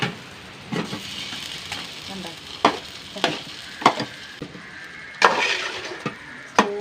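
Beef with browned onions being stirred and fried in a pan, with scraping spoon strokes and intermittent clinks over a steady sizzle, close and fairly loud.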